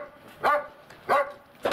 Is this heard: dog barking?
yes